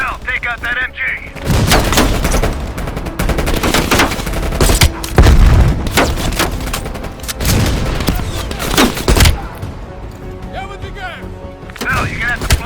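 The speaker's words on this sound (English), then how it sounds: "Bill, you're gonna have to flank that MG. That MG's dug in tight" Heavy machine gun bursts and scattered gunfire in the Call of Duty Black Ops Cold War video game, loud and dense with booming impacts, while a voice talks over the battle.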